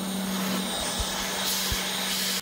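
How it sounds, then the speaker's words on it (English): A C5 Corvette secondary air pump whirs steadily as air is blown through its control valve, a loud continuous electric drone with a hiss of rushing air, cutting off abruptly at the end. "I will turn on the pump and then open the control valve with the MightyVac to make sure it opens, allowing air to pass through it"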